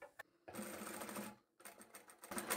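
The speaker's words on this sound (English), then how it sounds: "you know that you're going to start sewing at that point in the corner there" A sewing machine stitches a Y seam through layered fabric into a corner, running in two short bursts separated by a brief pause, fairly close and moderately loud with no talking.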